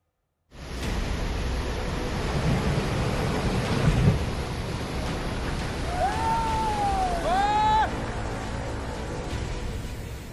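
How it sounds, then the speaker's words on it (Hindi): Heavy rain pours down steadily during floods in Sikkim, a dense hiss with low thunder rumbling beneath it, loud and constant throughout. "सिक्किम में जोरदार बरसात ने शहरों की दशा ही बदल दी।"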